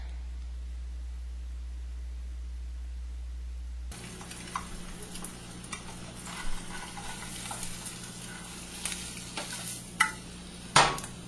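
An egg frying in a pan with melted butter: after a quiet start, a steady soft sizzle fills the background, broken by occasional sharper pops and crackles, with no talking.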